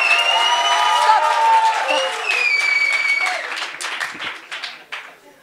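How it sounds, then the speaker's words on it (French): An audience applauds a contestant at a science thesis-presentation competition, with loud clapping mixed with cheering and whistles that gradually fades out over several seconds. "Donc, pour Jonathan, tous vos applaudissements."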